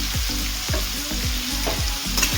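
Mixed vegetables with green peas fry in hot oil while a spoon stirs them in a steady rhythm of about six scrapes, each stroke rising clearly over a continuous close sizzle.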